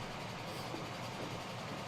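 Trains race in Transport Fever, an American locomotive among them alongside a Norfolk and Western and a British train, giving a faint, steady low engine rumble with no break.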